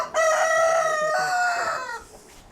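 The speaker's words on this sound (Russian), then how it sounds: "Ага, петухи." A single rooster crows loudly and close by, one long drawn-out cock-a-doodle-doo lasting about two seconds.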